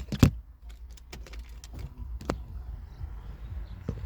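A key turns in the ignition of a Citroen Berlingo with a sharp jangle and clack at the start. Several faint clicks and ticks follow in a quiet car interior, with no one talking.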